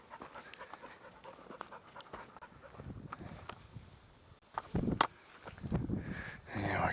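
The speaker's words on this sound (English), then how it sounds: "The happy dog by the big tree." A dog, Jenny, pants rapidly and steadily close by during a walk at Grayson Highlands, with footsteps and shuffling mixed in and the panting growing louder near the end.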